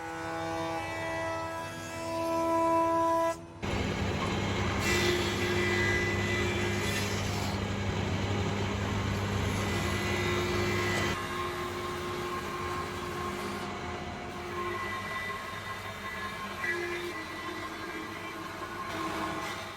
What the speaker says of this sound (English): flattening one face on the jointer and then through the thicknesser to flatten the other face parallel